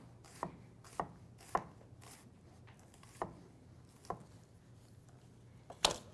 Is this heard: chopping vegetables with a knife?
yes